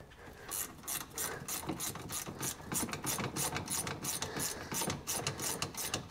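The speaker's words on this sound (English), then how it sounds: "I'm just gonna grab a ratchet wrench." A Harbor Freight ratchet wrench clicks steadily as it is turned back and forth, giving a close, rapid run of pawl ticks in repeated bursts; no voices.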